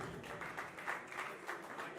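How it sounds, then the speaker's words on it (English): Audience applause for a prize winner at a reality show, a steady, dense wash of clapping through the whole stretch, with a few swelling peaks. "A round of applause, please."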